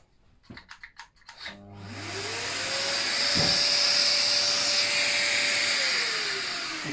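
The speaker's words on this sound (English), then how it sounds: "I'm going to show you the way that I do it, and that's with the orbital sander." Orbital sander with a sanding disc running steadily on a wooden keepsake box, a loud continuous whine rising after a few knocks and lasting several seconds at close range.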